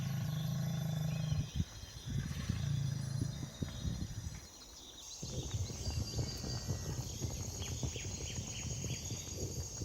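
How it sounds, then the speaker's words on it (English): Male buffalo in the Okavango give deep, rumbling bellows while hooves clatter. The sound is loud and continuous, with wild-animal commotion and no talking. "It wasn't the roar of lions, but the roar of dozens of leading male buffaloes returning to her rescue."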